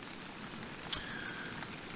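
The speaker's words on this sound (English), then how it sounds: "I'm hoping it's not raining like this in the morning" Rain patters softly and steadily on a tent during a trek in Swedish Lapland, with one sharp tick of a heavier drop against the fabric; quiet and continuous, with no talking.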